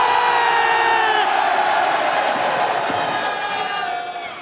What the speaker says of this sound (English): If you think Rebel should support Wales on Saturday, give us a cheer.